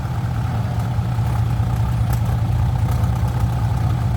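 A heavy tractor engine idles steadily with a deep, throbbing rumble, loud and close, continuous throughout with no talking.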